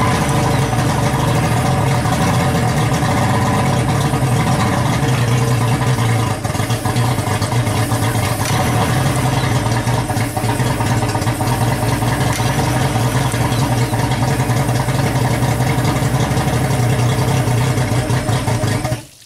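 A repaired boat outboard motor runs loud and steady close by, a continuous droning engine roar with no pauses, cutting off abruptly at the very end.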